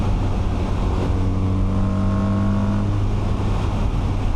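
BMW R 1300 RT motorcycle engine at high speed, a loud, steady droning hum with a tonal whine that rises slightly, mixed with wind rush throughout.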